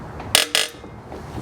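A ratchet wrench breaking loose a long-seized bolt on a Toyota 2JZ engine during a twin-turbo build gives two sharp, loud bursts of clicking and cracking close by, separated by a brief pause, with quieter garage ambience around them.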